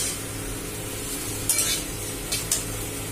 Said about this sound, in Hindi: और ये अब जो फ्राई गोभी और आलू था ये अब अंदर जा रहा है इसके, अब इसको मिक्स करेंगे हम।